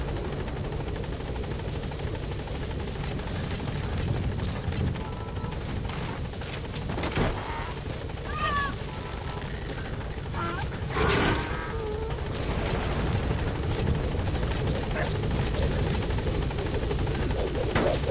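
The Pequod support helicopter in Metal Gear Solid 5 gives a constant, steady rotor drone throughout, with scattered brief game effects layered over the whirring.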